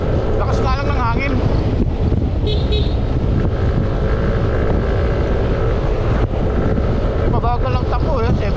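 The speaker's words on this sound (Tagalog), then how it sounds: "Lakas nga lang ng hangin." Strong wind roars and buffets the microphone continuously while riding along a quiet open road, a steady heavy rush with gusty bursts throughout.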